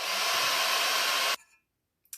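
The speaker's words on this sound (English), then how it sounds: "I'm going to dry it with the hairdryer, just get some of that wetness off it." A hairdryer blows loud, steady, broadband air over a wet painting of red flowers, then switches off abruptly, leaving near silence and a brief faint rustle.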